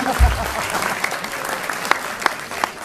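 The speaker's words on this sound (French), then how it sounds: "Oui, applaudissez si vous voulez" Scattered audience applause at a festival, a diffuse clapping wash with a few distinct individual claps standing out, fairly close and moderately loud.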